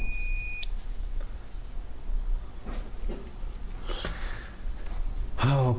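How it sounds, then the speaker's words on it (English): During bench repair of a dead Asus VivoBook X543M laptop, a short, bright electronic beep sounds at the very start over a low hum, followed by faint handling noises and a brief voice at the end. "Okay, it's beeping."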